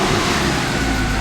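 A Mercedes C63 V8, a wrecked non-runner overfilled with oil, idles steadily in a continuous low rumble with no talk over it.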